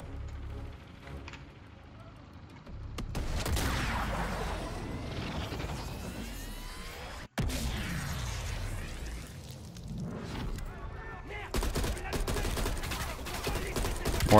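Gunfire and explosions roll through a Call of Duty Black Ops Cold War campaign scene on PC, with heavy booming blasts and sharp cracks, including sniper rifle shots, over a steady loud din while someone talks in French.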